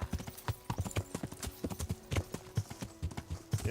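A horse's hooves clip-clop in the video game Kingdom Come: Deliverance in a steady walking rhythm. The hollow knocks repeat evenly, close and fairly quiet, with no other sound competing.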